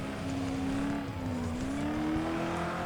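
Race car engines in the video game FlatOut drone steadily at a sustained high pitch that dips and climbs gently, with a dense mechanical rumble underneath and no talking.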